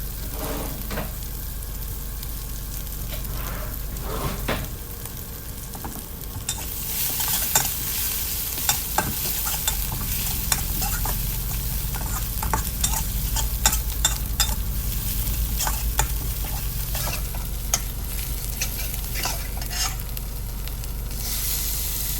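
Chili and garlic stir-fry in a little oil in a pan, with a loud, steady sizzle throughout and frequent sharp scrapes and clicks from the stirring utensil.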